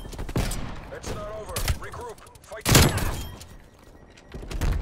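Sniper rifle shots in a shooter video game, loud sharp cracks with booming tails, two or three spaced apart amid game noise and a talking voice.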